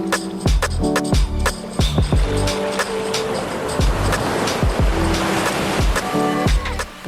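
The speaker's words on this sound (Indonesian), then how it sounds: "Puas menikmati deburan ombak" Ocean waves crash and wash onto a shallow beach with blue water on the Buton Tengah coast of Indonesia, a loud rushing surf repeating in surges with music and no talk.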